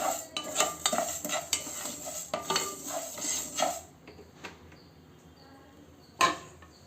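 Spatula clinking and scraping in a pan over a soft sizzle, rhythmic stirring for several seconds, then quieter frying and one sharp clank.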